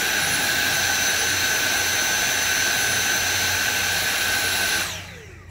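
Hoover Evolve Pet vacuum running on its high setting: a loud, steady, close whine with a strong high-pitched airflow roar that holds evenly, then spins down at the end as the motor switches off.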